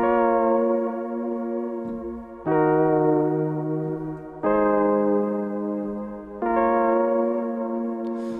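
A retro Cymatics 'Memory' Serum synth patch, played an octave lower, sounds four long sustained chords that shift pitch every two seconds or so, full and upfront with warm low undertones and no talking.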